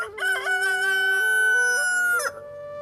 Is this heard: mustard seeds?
no